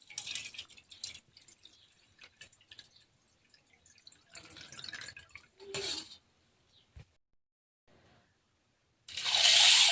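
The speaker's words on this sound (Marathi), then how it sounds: "मी आता वरचं पाणी आपल्याला काढून घ्यायचं आहे" Water is poured and drained off washed moth beans in a bowl, with intermittent dripping, splashing pours and short bursts of trickling separated by quiet gaps, and a louder rush of water at the end.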